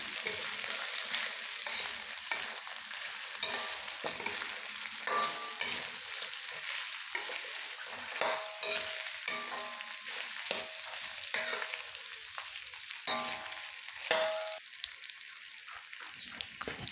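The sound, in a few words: stirring pork adobo with bay leaves in pan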